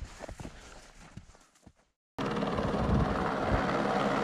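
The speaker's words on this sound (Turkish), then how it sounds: "Oraya helikopter indi." A helicopter at a mountain airstrip in Nepal, heard after a few soft thuds and a short gap as a sudden loud, steady rotor and engine roar, close and continuous.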